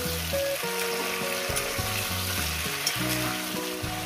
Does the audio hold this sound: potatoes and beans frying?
yes